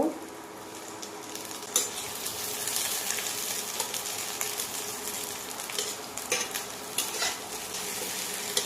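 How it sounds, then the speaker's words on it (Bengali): Two chopped onions and five slit green chillies frying in a pan, with a steady sizzle and intermittent scrapes and knocks of a stirring utensil against the pan. "পেঁয়াজটা হালকা ভেজে আমরা তাতে লবণ আর হলুদ দিয়ে দিব।"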